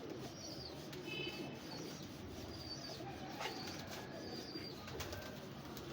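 Pigeons coo softly in a loft, low murmuring calls mixed with faint background rustling and occasional higher chirps, steady and moderately distant throughout.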